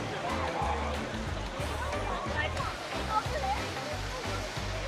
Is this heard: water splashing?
yes